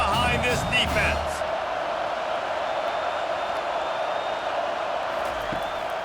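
Stadium crowd noise from EA College Football 25 at Ole Miss vs South Carolina, a steady roar of cheering fans filling the background while a commentator talks briefly at the start.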